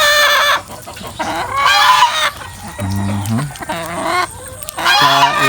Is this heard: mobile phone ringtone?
no